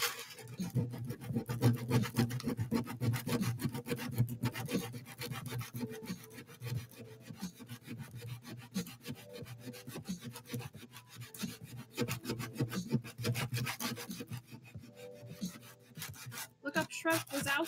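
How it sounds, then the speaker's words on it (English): Steady rhythmic rasping and rubbing of sandpaper on wood, continuing in quick strokes with brief pauses. "You hear this? Means I'm sanding something."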